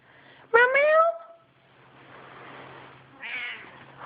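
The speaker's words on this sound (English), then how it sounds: "Oh, meow." A cat gives one clear, rising meow, followed by a quieter murmur and someone speaking softly to it over low background hum.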